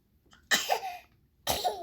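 A baby sneezes twice, close and fairly soft, with a short pause between the two bursts and quiet in between.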